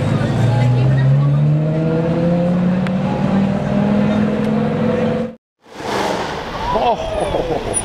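A black Lamborghini Murcielago LP640 drives by, its engine rising in pitch as it accelerates past, loud and near, then cuts out briefly before another burst of revving, with voices talking nearby.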